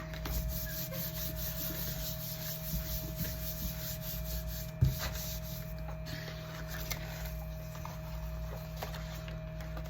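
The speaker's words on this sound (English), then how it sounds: "rub that a little more" Paper being rubbed by hand against a gel printing plate while layering prints, a steady soft scrubbing close up over a constant background hum, with one brief knock midway.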